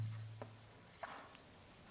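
Chalk or marker scratches across a classroom board during a Class 10 geometry lesson on circles, with faint, sparse strokes and taps over a quiet room hum.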